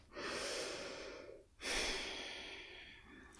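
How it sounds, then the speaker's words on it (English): A slow relaxing breath is drawn in through the mouth, then released in a long airy exhale after a brief pause, close and soft. "take one cleansing breath, as we yogis call it. So just breathe normally one time in and out."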